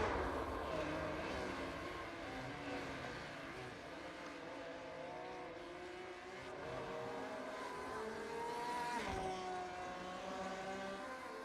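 Several GTE race cars in iRacing at Suzuka snarl and drone past together, overlapping engine notes rising and falling as they slingshot into turn 1, a dense continuous roar with shifting pitch throughout.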